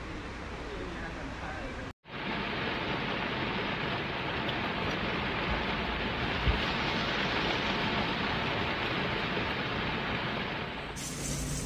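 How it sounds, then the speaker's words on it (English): Heavy rainstorm in Fujian, China, a steady loud roar of downpour lasting throughout with one brief cut near the start. "there were short-term heavy rainstorms in some places"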